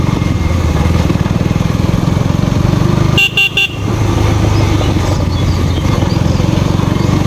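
A KTM Duke 200 BS6 motorcycle engine drones steadily while riding through a village, loud and close, briefly broken by a few sharp horn toots midway.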